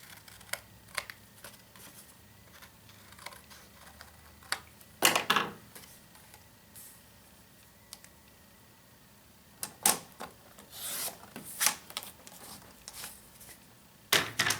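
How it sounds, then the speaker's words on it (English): Scissors snip through white cardstock, trimming small tips and cutting a strip in half for a 3-D pear greeting card; a few sharp, close clicks and cuts come in scattered bursts with quiet pauses between. "I'm going to clip off these little tips here and then cut that in half"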